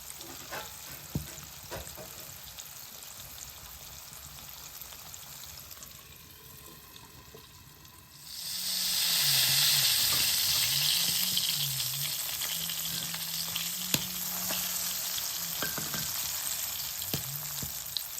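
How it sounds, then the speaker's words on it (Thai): Salmon milt fries in a pan on a home stove. A quiet background gives way to a loud, steady sizzle that continues to the end, with faint clinks and no voices. "ทอดในเตาในบ้านเลยจ้ะ ทอดไฟอันเตาฟื้นนะคะ รอเดี๋ยวรอมันสุกนะจ้ะ"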